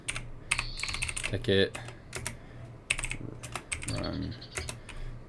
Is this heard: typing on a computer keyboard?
yes